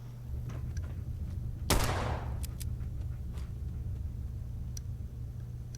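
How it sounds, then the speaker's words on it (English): A single sharp gunshot rings out in a Fallout 4 game, moderately close behind the player, over a steady low hum and faint background game sounds. "You just heard a gunshot behind you and you didn't turn round."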